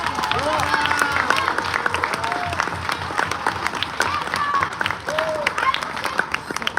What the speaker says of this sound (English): please stand up right now and receive your very well-deserved round of applause